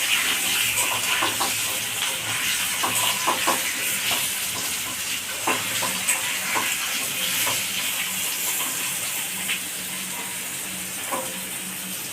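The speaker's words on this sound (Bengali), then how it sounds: "আমার আলু ভাজা হয়ে গেছে" Potatoes fry in hot oil in a pan, added after okra and a tempering of dried red chilli and whole cumin. The sizzle is steady and hissing, with faint stirring clicks and no talking.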